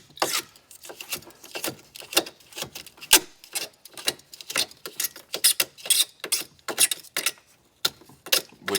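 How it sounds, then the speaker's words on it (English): A razor blade scrapes glue and foam off a freeze-damaged hot tub manifold in a steady series of short, sharp scratching strokes, close and fairly loud, with no voice. "I just actually scrape it with the razor blade."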